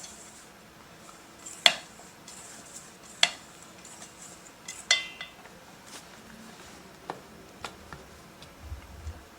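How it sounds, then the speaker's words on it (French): Utensils lightly clink against a dish as tomatoes seasoned with pepper and sugar are gently mixed, producing sparse, quiet, irregular ticks and taps in a hushed kitchen. "Mélanger délicatement."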